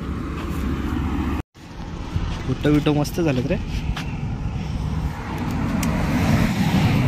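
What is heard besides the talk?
car approaching on the road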